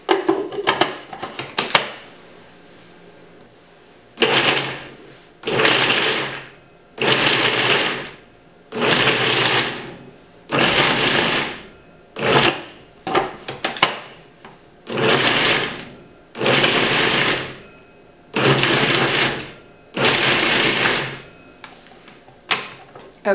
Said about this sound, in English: use a little bit of this reserved liquid to help thin it out a little bit as the food processor is running to help it to form a paste